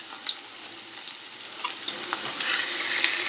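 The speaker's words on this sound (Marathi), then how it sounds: "लसूण छान लाल झाला की आपण त्याच्यामध्ये कांदा टाकून घेऊया" Garlic cloves frying in hot oil in a pan, with onion about to go in, give a steady close sizzle that swells louder toward the end, broken by a few soft stirring clicks.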